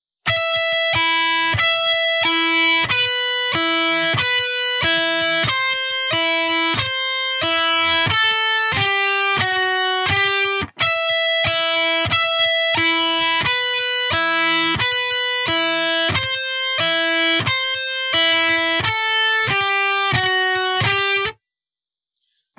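A distorted electric guitar plays a repeating melody of picked notes in octaves, steady and rhythmic, with no voices.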